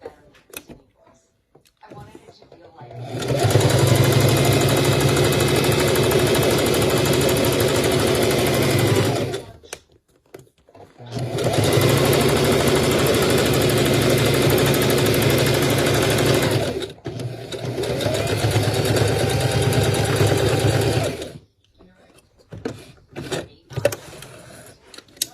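A sewing machine stitches eyelet leather pants in three long continuous runs of rapid mechanical whirring, close and loud, separated by short pauses with handling clicks and rustles.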